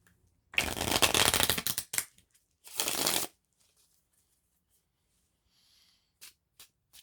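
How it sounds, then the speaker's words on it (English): A deck of tarot cards riffled by hand, two quick buzzing riffles close to the mic, then faint taps and shuffles in an otherwise quiet room. "riffle these cards"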